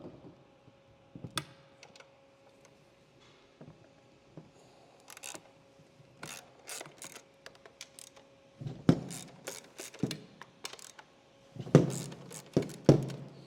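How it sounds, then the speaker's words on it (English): A 13mm socket wrench loosens the three nuts on a circular saw, giving a series of close, sharp ratcheting clicks and metallic taps in short bursts, separated by quieter handling noises. "a 13mm socket will take these nuts off also. There's 3 nuts located here. You have to loosen these up."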